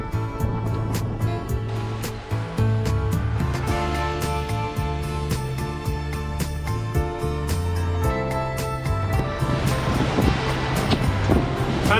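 A sailboat beating into the wind on calm ocean waves near uninhabited islands in Mexico, with a constant wash of water and wind rushing against the microphone throughout.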